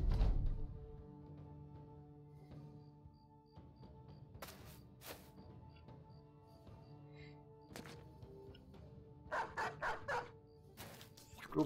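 A war dog in the Battle Brothers game barks in a few short, sharp bursts over a quiet battle backdrop, with a lone bark, then a pair, then a quick volley near the end.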